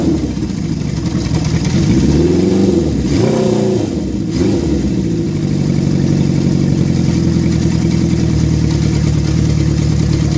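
A Honda CB750 motorcycle engine revs loud and close, climbing through a couple of throttle blips before settling into a steady, rumbling idle.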